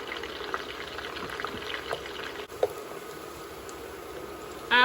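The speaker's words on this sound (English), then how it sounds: "After our onion has fried for a little bit" Onion frying in a pot for Liberian chicken greens, a low steady sizzle with faint stirring taps and a short louder rattle at the end.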